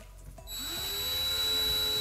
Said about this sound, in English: we're gonna drill about an eighth of an inch deep using our number 51 drill bit.